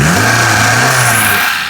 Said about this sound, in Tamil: இந்த பாருங்கள் ரேஸ் பண்ணிட்டு காட்டுறேன் பாருங்கள்.